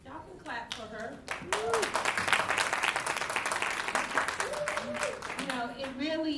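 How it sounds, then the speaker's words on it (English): Applause breaks out at a teachers' association representative council meeting, a steady patter of clapping from a moderate crowd that rises after a moment and continues, with voices talking over it near the start and end. "Y'all can clap for her."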